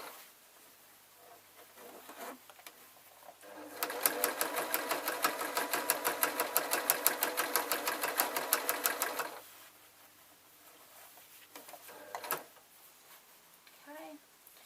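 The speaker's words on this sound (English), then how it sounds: "I'm just quite happily sewing up to where the petals start" A sewing machine stitches quilt binding in one steady run of about five seconds, with a fast even needle rhythm. Quieter handling sounds come before and after it.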